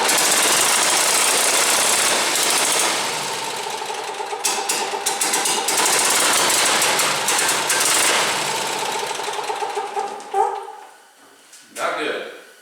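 A John Deere tractor engine fitted with a new ignition coil cranks in a loud, dense, rattling run that stutters and breaks off, followed by a brief second crank attempt near the end; no voices are heard.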